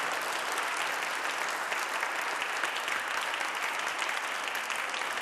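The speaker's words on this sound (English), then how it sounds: "Please give a round of applause" Steady, loud audience applause fills the room for panelist Marlin Dixon at a public panel discussion on youth incarceration, dense clapping continuing without pause throughout.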